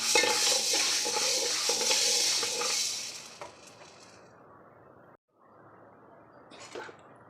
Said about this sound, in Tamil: உளுந்தும் நல்லா வருபட்டுருச்சு